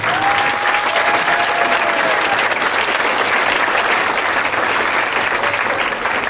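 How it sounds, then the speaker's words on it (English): Sustained applause from an audience at a 2015 closing ceremony, dense and steady throughout, with a faint voice briefly audible underneath near the start. "Let's give Marsha a nice round of applause again."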